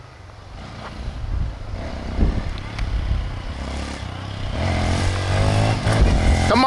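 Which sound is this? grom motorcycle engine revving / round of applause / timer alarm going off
grom motorcycle engine revving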